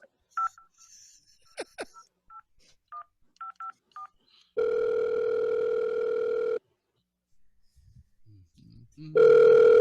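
A telephone call to a voicemail service: a few dialing tones and clicks, then a long, loud ringback tone that stops, a pause with quiet talk, and a second ring beginning at the end.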